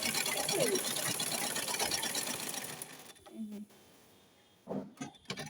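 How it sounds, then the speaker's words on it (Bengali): A sewing machine stitches a kameez along a chalk line, running in a loud, fast, steady whirr for about three seconds, then stopping and giving a couple of short bursts. A voice speaks briefly over the pauses. "এই যে সেলাই করে নিতেছি"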